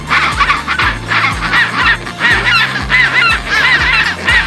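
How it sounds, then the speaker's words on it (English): A penguin colony calls loudly, with repeated harsh honking brays overlapping in quick succession, close and continuous, with no talk. "Penguin."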